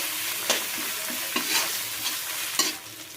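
Chilli powder and spices are stirred with a fish head, hilsa by its name, in a hot cooking pan, sizzling steadily up close while a spatula scrapes in several sharp bursts.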